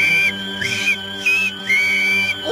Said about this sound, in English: They used a pattern of whistles to control the warriors and workers